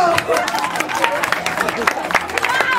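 Audience clapping at a stage show at a comics convention, a steady patter of many hands close by with crowd chatter and voices running underneath.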